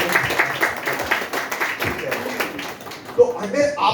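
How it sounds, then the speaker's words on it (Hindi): An audience claps in a quick, steady patter of many hands, with a person talking over the applause throughout. "अगर लगे आपको तो एक बार ताली बजा सकते"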